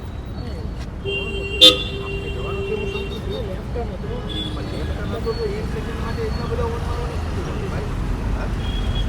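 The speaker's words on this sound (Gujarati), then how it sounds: "એટલા હોર્ન મારવાથી શું ફાયદો થાય મને સમજાવો ને" Busy road traffic rumbles steadily, with a sharp car horn toot early on and fainter honks further off.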